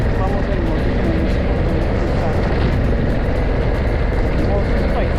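A motorcycle ride recorded on the move, with loud continuous engine drone and wind rush filling the whole stretch at a steady level.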